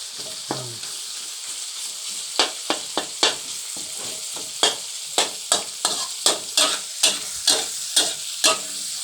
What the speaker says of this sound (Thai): เสียงผัดกระทะป๊อบแป๊บๆ